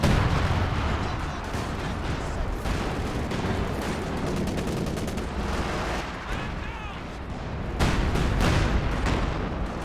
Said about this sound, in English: The Airborne Guards calling in their strafe as well